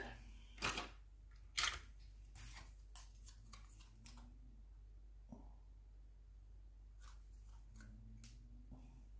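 Scissors cut through a paper card for a snowy rose greeting card. Two sharp snips come early, then a series of quieter clicks and trims that are faint and spaced apart in a quiet room.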